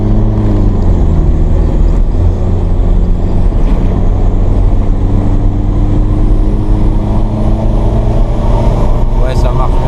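A BMW with a stage 1 tune drives along, its engine a steady, loud, close drone that surges slightly as it pulls, with voices talking over it throughout.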